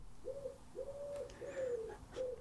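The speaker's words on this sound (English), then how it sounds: "It's a bloody pigeon outside." A pigeon outside gives a series of soft, repeated coos in a steady rhythm, faint and somewhat distant against a quiet indoor background.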